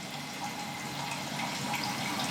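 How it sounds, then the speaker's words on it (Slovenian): Warm water poured for making walnut štruklji dumplings, a steady close rushing trickle that holds evenly throughout with no talk. "ker tukaj zraven pa je treba zdaj vročo vodo naprej dodajati"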